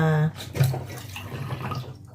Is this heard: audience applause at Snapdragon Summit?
no